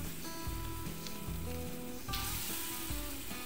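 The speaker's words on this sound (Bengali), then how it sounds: "তেল গরম হলে অল্প অল্প তালের মিশ্রণ গরম তেলের মধ্যে দিয়ে দিলাম।" Spoonfuls of palm fruit batter drop into hot mustard oil in a kadai for tal er bora, a continuous close sizzle and bubbling that surges as new batter goes in.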